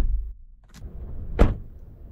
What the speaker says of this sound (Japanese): ドアを閉めた音は